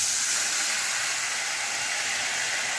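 Tamarind water poured into a hot pan of spicy Karavali-style fish curry sizzles in a steady, bright hiss that holds at an even level throughout, with no voices over it.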